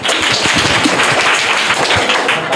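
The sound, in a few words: schoolchildren applauding a correct answer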